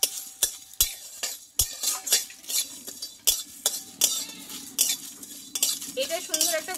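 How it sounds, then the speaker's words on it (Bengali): Whole cardamom, cinnamon, cloves and a spoonful of panch phoron dry roasting in a pan, with repeated sharp scrapes and clinks of a spoon stirring against the metal in an irregular rhythm, close and fairly loud. "এখানে একটা এলাচ, দারচিনি, লবঙ্গ দিয়ে দেব। আর এখানে নিয়েছি 1 চামচ মতো পাঁচফোড়ন দিয়ে এইটা ভালোভাবে আমি ড্রাই রোস্ট করে নেব"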